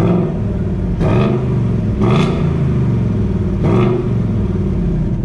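A Ford Mustang's stock exhaust idles with a low gurgling rumble, broken by three sharp revs about a second apart, loud and close.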